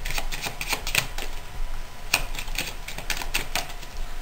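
A deck of playing cards gets a thorough mix on a table, a close run of quick papery clicks and snaps in uneven bursts with no voices.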